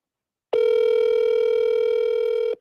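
A single outgoing-call ringback tone plays as one steady, unbroken electronic tone lasting about two seconds, loud and clean with no talking over it.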